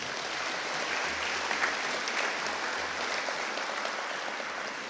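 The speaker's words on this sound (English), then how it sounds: "A nice round of applause, please, for all of our sponsors." Audience applause for sponsors at a National High School Football Hall of Fame event, a steady, even wash of many hands clapping throughout, moderately distant and uninterrupted.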